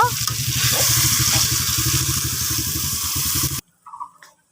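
Water poured into a frying curry of hilsa fish and taro stolons gives a loud, rushing sizzle and bubbling for several seconds, then stops abruptly, leaving a few faint clinks and near-silence.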